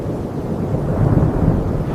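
A thunderstorm raging around Noah's Ark, with a steady low rumble of thunder and wind that swells slightly midway, loud and continuous with no voices.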